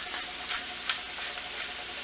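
Mac and cheese with salt and cheese mix frying in a pan, a soft, steady sizzle with faint crackles and a couple of light ticks, quiet and alone.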